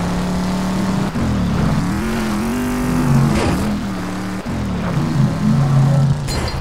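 Engine of a video game car in a gravity-gun sandbox game, droning steadily with pitch swells and dips as it drives and revs, loud and continuous with brief breaks.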